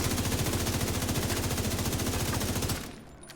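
Police M4 rifle in the video game The Division 2 firing a sustained fully automatic burst, rapid evenly spaced loud shots for nearly three seconds before stopping abruptly, with a short fading tail and no talk.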